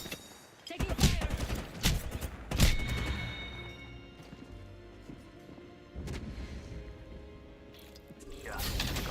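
Video game gunfire in bursts, with mechanical clatter and loud shots near the start and again later, mixed with other game effects.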